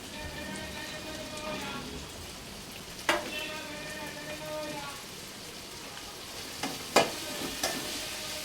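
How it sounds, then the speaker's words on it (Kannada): Onion, beans, carrot and peas frying in a pan, a steady soft sizzle throughout with a few sharp clinks of stirring punctuating it, and no talking. "ಜೊತೆಗೆ ಬಟಾಣಿ ಹಾಕ್ಕೊಂಡು ಚೆನ್ನಾಗಿ ಫ್ರೈ ಆಗಲಿ"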